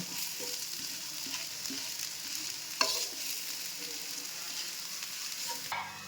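A dosa sizzles on a hot griddle, giving a steady close crackle with light scraping and a sharp clink partway through, with no talking.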